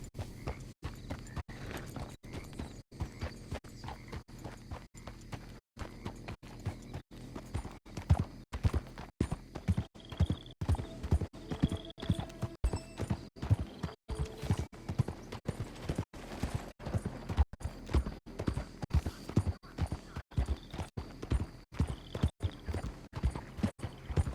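Horse hooves clip-clop in a quick, steady rhythm on a hard surface in Red Dead Redemption 2, running continuously at moderate volume with no voices.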